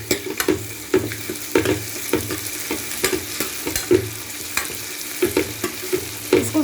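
Onions already browned are fried with ginger-garlic paste in a home kitchen, for dhaba-style chana dal; a spoon stirs and scrapes the pan in a steady repeated rhythm over a continuous close sizzle.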